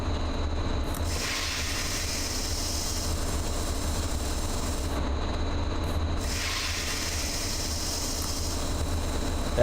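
Cargo train in the Train Driver 2 game with its brakes being set, a steady low rumble and rolling noise running throughout, joined by two long hissing bursts of air.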